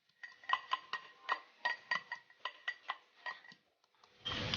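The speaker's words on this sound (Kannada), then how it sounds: "ಬೆಳ್ಳುಳ್ಳಿನ ಸ್ವಲ್ಪ ಜಜ್ಕೊಳ್ತಾ ಇದ್ದೀನಿ ನಾನು" Garlic is crushed for brinjal sabzi with about a dozen quick, sharp knocks in an uneven rhythm. The knocks are close and fairly quiet, with a short rustle at the end.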